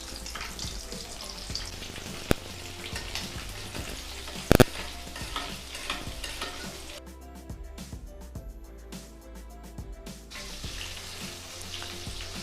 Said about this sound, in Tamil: லோ ஃப்ளேமில் வச்சு ஃப்ரை பண்ணலாம்.